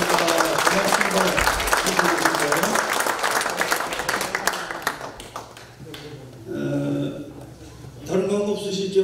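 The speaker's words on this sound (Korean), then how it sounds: "우리 박수로 한번 격려하겠습니다." Audience at a church presbytery's regular assembly applauding in a dense burst of clapping for about five seconds, after which someone speaks over a quieter room.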